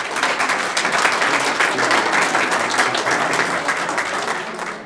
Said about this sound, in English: another round of applause for our outstanding students of the month